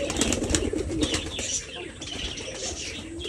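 Pigeons in a village loft, including a pair with eggs and a fighting hen, coo in low repeated murmurs close by, mixed with faint chirps and rustling of wings, with no talk.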